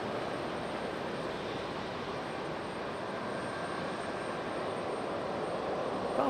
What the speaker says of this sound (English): coming in from Denver on that MAX 8